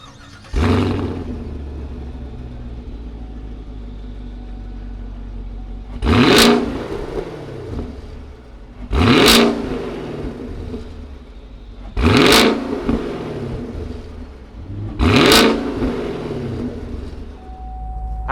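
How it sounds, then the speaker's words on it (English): A 2019 Chevy Camaro SS convertible V8 starts with a low idle rumble, then revs loudly in four sharp, evenly spaced bursts that each fall back to a steady idle, close and alone with no talk. "Let's fire up this Camaro SS and see what it sounds like."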